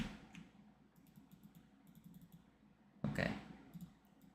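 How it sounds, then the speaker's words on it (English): Faint computer keyboard clicks, a few scattered light key taps with Control Z pressed, in a quiet room, then a louder single thump toward the end. "I'm clicking Control Z and it's not working."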